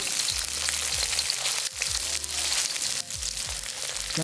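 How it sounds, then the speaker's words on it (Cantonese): Chicken thighs pan frying skin-side down in a wok, a loud continuous close-up sizzle and crackle with a few soft low knocks, and no talking. "my dad places the side with a thicker skin face down into the wok because it's flat and easier to pan fry"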